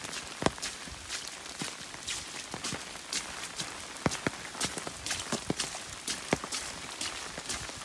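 Rain pattering steadily on an umbrella along a flooded hiking trail on the Appalachian Trail, with sharp drop hits and irregular sloshing footsteps through water close by, no talking.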